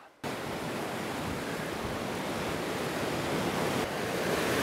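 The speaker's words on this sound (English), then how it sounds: "this waterfall is beautiful" A steady, full rush of a waterfall on the Castle River in Alberta roars without a break, loud and close, with no voices.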